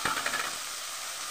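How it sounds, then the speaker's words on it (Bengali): Onions fry in a pan for a fish curry with a faint, steady sizzling hiss, slightly busier at the start, with no talk. "পেঁয়াজ ভাজা হচ্ছে"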